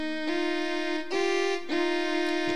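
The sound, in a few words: piano phrase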